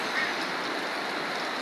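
Steady rain falls in Uganda, a continuous soft hiss of drops on surfaces that stays even and fairly quiet throughout, with no voices.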